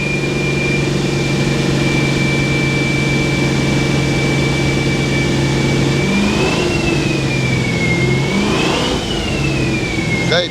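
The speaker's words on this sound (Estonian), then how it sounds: "Laseb auto soojaks ära, vaata." 1966 Dodge Charger engine warming up on a dyno: a loud, steady idle with a high whine on top, then a couple of rising and falling revs near the end, close and unbroken.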